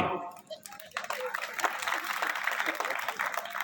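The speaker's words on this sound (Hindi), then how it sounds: "जो तालियां नहीं बजाएंगे वो तो ऐसे हैं, इसलिए आप ऐसे नहीं हो तो सब लोग बजा दो" Audience applause at a Hindi poetry gathering (kavi sammelan) in Rura, Kanpur, building from a start into steady, dense clapping that fills the rest of the moment.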